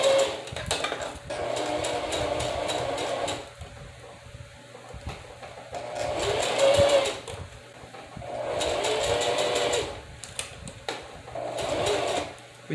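A sewing machine stitches close to the edge of a lace closure wig in several long whirring runs separated by brief pauses, steady and close, with no talking.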